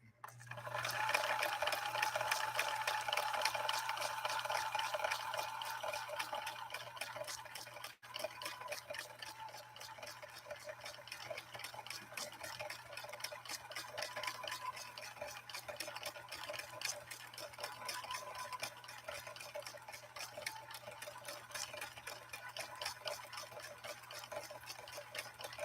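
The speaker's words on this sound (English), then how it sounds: "You can hear that motor being held back a little bit." A Viking Husqvarna 2000 sewing machine runs steadily through a gear reduction, its held-back motor giving a constant low hum under a fast even ticking of the mechanism, close and alone.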